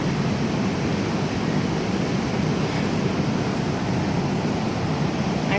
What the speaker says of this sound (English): But this would be the middle of the cascade.